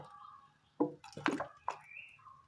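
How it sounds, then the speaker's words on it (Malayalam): Oil poured into a cooking pan, a few soft drips and liquid splashes in quick succession, close and quiet, no talking. "പാനിലേക്ക് അല്പം എണ്ണ ഒഴിച്ചു കൊടുക്കാം"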